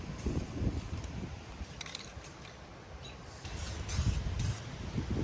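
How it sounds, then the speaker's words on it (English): An aerosol can sprays paint onto a car door outdoors on a very windy day. The can gives several bursts of breathy hiss, separated by short pauses, over low rumbling wind noise. "I picked the windiest day of the year to try and spray some paint outside."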